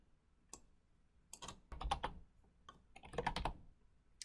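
Keys tap on a computer keyboard in short, quiet bursts of clicks with pauses between, close by and with no voices.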